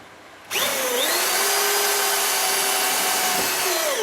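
Power drill driving a screw into the wood frame of a tiny house floor: abrupt start, then a loud sustained whine with slight pitch shifts as the screw bites, close and alone.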